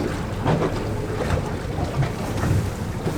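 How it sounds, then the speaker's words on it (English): Strong gusts of wind buffet a boat at sea in stormy conditions, a steady roar that swells in several surges, with water sloshing underneath and no voices. "Just those big gusts of wind coming through."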